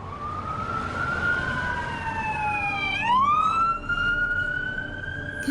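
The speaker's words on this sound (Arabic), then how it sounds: "في اللحظة دي سرينة عربية الشرطة دوت في المكان." A police siren wails loudly, its pitch sweeping up and down before settling into a rising tone, with traffic rumbling underneath.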